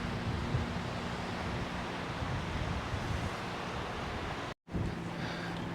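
Gentle sea surf rolling onto the beach at La Zenia on a calm day, a steady broadband wash mixed with wind buffeting the microphone, with a brief dropout near the end.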